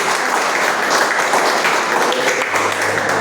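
Congregation applauding during a church vigil service in Camboa, a dense, loud and continuous roar of many hands clapping, with a faint voice or tone briefly audible beneath it.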